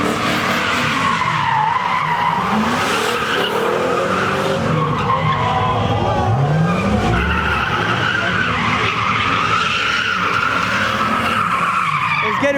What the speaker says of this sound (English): we got 2 cars swinging already